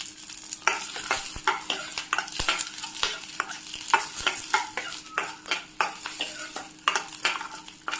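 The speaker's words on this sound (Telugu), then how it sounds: "ముందుగా మిరపకాయలను ఈ కొంచెం మిరియాలు వేసుకుందాము." Dried red chillies and black peppercorns roast in a pan, crackling and rattling under repeated, rhythmic scraping strokes of a spoon against the metal.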